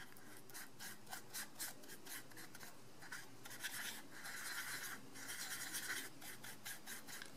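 A paint brush being rubbed against a bar of The Masters Brush Cleaner & Preserver to work up a lather, giving close, soft, repeated scrubbing strokes in an uneven rhythm with no talking.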